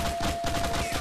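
Enemy shotgun fire in GTA IV, a dense, loud burst of repeated blasts packed into about a second, close and harsh.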